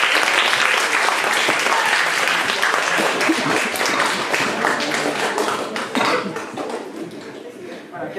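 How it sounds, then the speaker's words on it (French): Theatre audience at a stage comedy applauding, a dense continuous burst of many hands clapping close and loud, tapering slightly toward the end. "On applaudit le peuple!"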